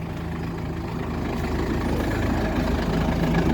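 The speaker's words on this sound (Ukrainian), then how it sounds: "Так, трактор ловол з плугом." A Lovol P4110 tractor's heavy diesel engine idles steadily with a deep, low rumble and harmonic throb, continuous and close throughout.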